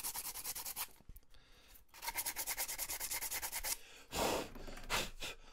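Acetone is rubbed over a 3D printed part with quick back-and-forth scrubbing strokes, close and fairly soft, broken by short pauses between bursts of rubbing.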